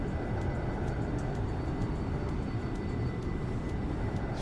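A small propeller aircraft drones steadily in the X-Plane 11 flight simulator, a dense, continuous engine hum at constant power throughout.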